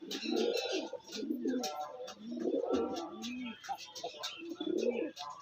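Pet pigeons coo close by in repeated low, throaty bursts, with softer calls overlapping between them.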